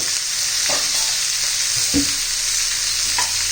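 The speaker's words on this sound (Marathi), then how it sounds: "शिमला मिरची परतून घेणार आहोत दोन तीन मिनटं चांगलं परतून घेतलेलं आहे" Capsicum and onion sauté in oil in a pan with a continuous loud sizzle, punctuated by a few soft stirring scrapes.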